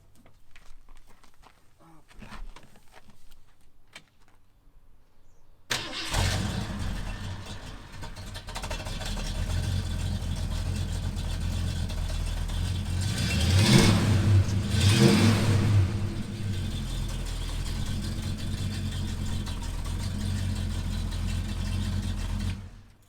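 A Ford Mustang engine cranks and fires, then holds a loud, deep rumbling idle close by with a rising rev swell midway before settling, following a few seconds of quiet handling noise.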